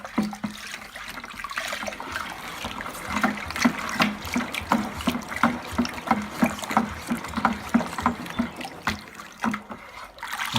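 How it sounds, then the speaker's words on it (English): Sugar being stirred into water with a paddle while making elderflower champagne, a steady run of rhythmic liquid swishes and sloshes, close and moderately loud, with no voices. "we just need to make sure that that sugar gets dissolved, so give it a good stir"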